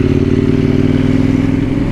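A KTM 790 Duke motorcycle engine runs close and loud with a dense, rapid pulsing rumble and a slight rise in pitch, heard alone.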